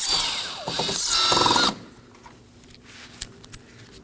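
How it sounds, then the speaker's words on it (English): A cordless drill fitted with a T15 Torx bit whirs loudly in a short burst while backing out bumper screws on a 2018-2024 Chevrolet Equinox 1.5L, then stops, leaving faint clicks and handling noises. "I'll be using a T15 bit on drill to remove these."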